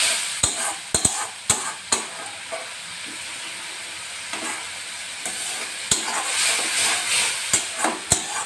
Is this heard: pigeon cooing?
no